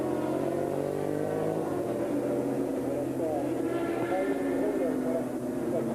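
A Bol d'Or endurance racing motorcycle at night in 1998, engine droning steadily at moderate revs as it cruises back to the pit, continuous and fairly close, with commentary voices running over it.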